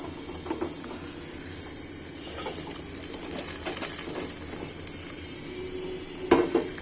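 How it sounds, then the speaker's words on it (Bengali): Cut taro stolons dropped into a pan of masoor lentils, soft sizzling with scattered clinks and scrapes of a utensil and a sharper clatter near the end. "আমি এখন এতে কেটে রাখার লতিগুলো দিয়ে দিব"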